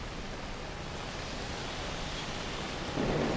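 Heavy rain falls in Telangana as a dense, steady roar of broadband hiss, with a deeper swell of low rumble rising near the end.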